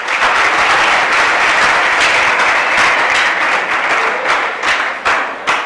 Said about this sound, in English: A hand of applause for him,